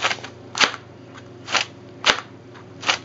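Four sharp snapping pops from a small spring-powered paper derringer toy gun, spaced roughly evenly and fairly close, over a low steady hum.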